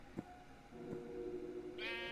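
A Minecraft sheep bleats once near the end, a bright wavering cry over steady game background tones and a few soft thumps.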